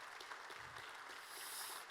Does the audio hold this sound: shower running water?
no